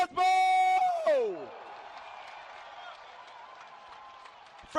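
A sold-out crowd at Wall Stadium Speedway, New Jersey, cheers and applauds the Formula Drift round winner, a broad distant roar heard after a loud announcer's voice at the start.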